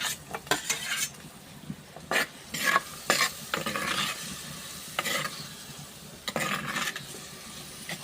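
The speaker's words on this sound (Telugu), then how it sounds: "ఉల్లిపాయలు ఉడికింది పసుపు వేస్తున్నాను టమాటా" Onions fry with turmeric and tomato in a pan for Maggi noodles, a steady sizzle broken by several loud scraping stirs of a utensil against the metal, close by with no talk.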